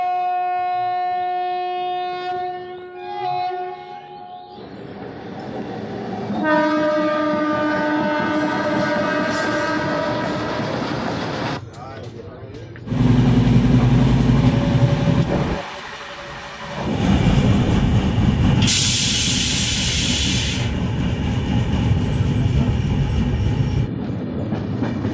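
A Howrah Mumbai Mail 12810 train on its journey sounds a long, loud horn blast, then a steady heavy rumble of wheels on track with shifting bursts of clatter as the carriages roll on.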